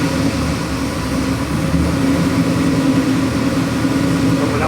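A 1963 split-window car with an LS3 376 cubic inch crate engine runs at a steady high idle, a loud, even mechanical hum with a low rumble and no pauses.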